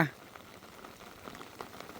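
Steady rain falls after a night and day of downpour, with rainwater pouring into a flooded rice paddy; a faint, even patter and trickle with soft scattered drops throughout.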